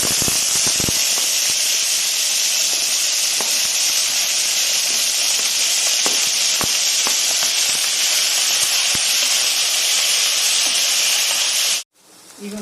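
Ivy gourd (tindora) pieces sizzle in hot oil with green chillies, a loud, constant frying hiss with scattered pops and crackles that cuts off abruptly near the end.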